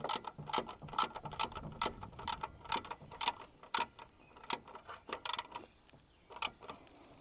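A ratchet wrench tightens the mounting bolt on an American Modified armor grille for a 2019–2021 Chevy Silverado 1500, its quick clicking bursts repeating in uneven runs close by.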